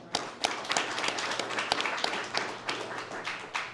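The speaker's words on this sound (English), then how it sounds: "Y'all give him a round of applause." Audience applause at a youth sports awards ceremony in Texas, moderate clapping with distinct individual claps standing out, fairly sparse and uneven, from a smaller crowd.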